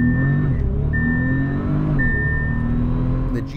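A 2023 Bentley Continental GT Speed with a 650-horsepower twin-turbo 6-liter W12 launches hard from a 5,000 RPM engagement, its engine roaring loud and close with steady rising tone through successive gear changes.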